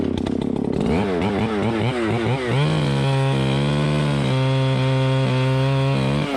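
A chainsaw cuts notches into a big cottonwood tree, loud and close, the engine revving in wavering pulses before settling into a steady high-pitched bite through the wood.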